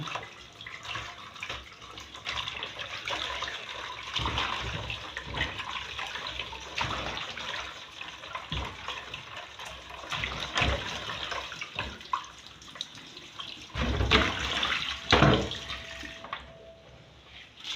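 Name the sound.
washing bitterleaf under running water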